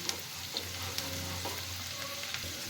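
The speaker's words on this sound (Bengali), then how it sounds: "যতক্ষণ রসুনটা একটু লালচে মতো রং না আসছে ততক্ষণ এটাকে খুব ভালো করে ভাজা ভাজা করে নিচ্ছি" Chopped garlic sizzles in hot oil in a pan for a restaurant-style chicken soup, a steady close frying hiss with faint crackles and no voices.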